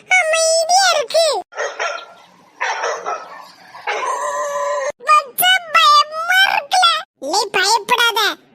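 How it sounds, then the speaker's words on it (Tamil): A street dog barks repeatedly in close, loud bursts in a village setting, with excited yips and whimpers mixed in and a voice talking between the barks. "கடிக்க மாதிரி குலைக்கும்"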